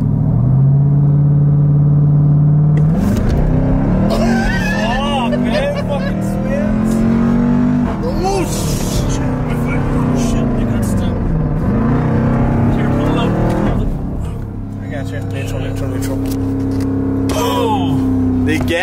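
A Jeep Trackhawk with a stuck gas pedal roars loudly and steadily close up as the engine note climbs and shifts, with rising and falling revs throughout and a slight drop near the end.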